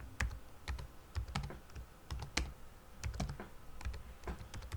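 Rapid keystrokes on a computer keyboard as a script name is typed while setting up a vehicle selection in a parking game, a close, crisp burst of clicks in uneven clusters with no talking.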